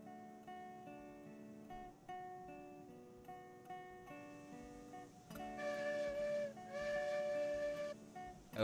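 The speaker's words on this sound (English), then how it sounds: "Porter 2 whistle sounds different." A Porter 2 train whistle in the Roblox video game sounds as a series of sustained harmonic tones that break and restart several times, then swell louder and fuller over the final few seconds.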